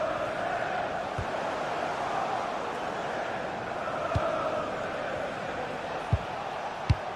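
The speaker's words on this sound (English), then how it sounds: "Well, just listen to this crowd." Stadium crowd in a football video game, a dense steady roar of many voices with a few sharp thuds, continuous and fairly distant.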